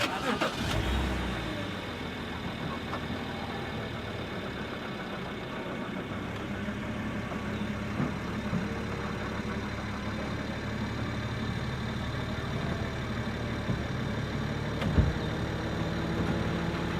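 A 2011 BMW 325i M Sport coupe with its 3.0-litre engine fires up and settles into a steady idle, a continuous mid-pitched hum heard close by from start to finish.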